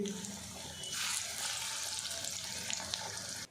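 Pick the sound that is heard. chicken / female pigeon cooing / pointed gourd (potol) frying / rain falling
pointed gourd (potol) frying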